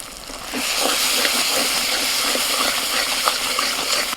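A paste of ground cashew, melon seed and poppy seed hits hot oil in a Bengali kitchen, a steady loud sizzling hiss that starts abruptly and continues unbroken, close up with no talking.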